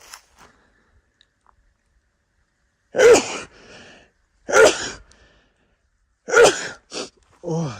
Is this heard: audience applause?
no